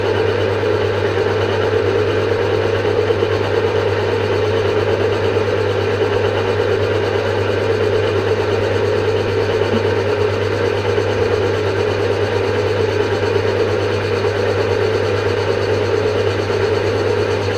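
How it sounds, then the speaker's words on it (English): A machine tool cuts a metal cube for a nested-cube project, giving a steady, unbroken mechanical hum and whine with a strong low drone that holds at an even level throughout. "I'll take the final cut a bit slower and run some coolant on it as well to get a nice finish on it."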